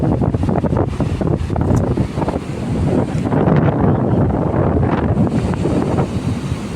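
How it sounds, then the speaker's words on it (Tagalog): Strong wind buffets the microphone over a steady roar of crashing waves, loud and continuous throughout. "Laki ang alon ngayon."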